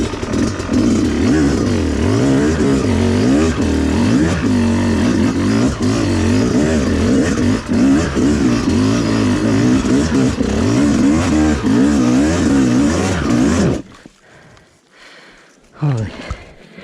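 A Yamaha YZ250X dirt bike climbs a hill, its two-stroke engine revving loudly and unevenly in rising and falling bursts, then cuts out abruptly into near silence with a faint brief sound after.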